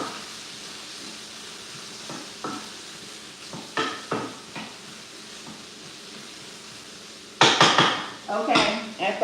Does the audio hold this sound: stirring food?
yes